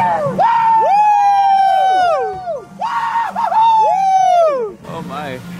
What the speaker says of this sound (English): just start screaming for the people down there